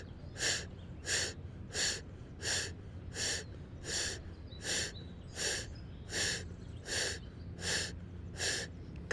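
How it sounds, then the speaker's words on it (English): Breath of fire during a yoga flow class: a steady series of about fourteen quick, forceful nasal exhales, evenly spaced and close, with no talking. "And breath of fire."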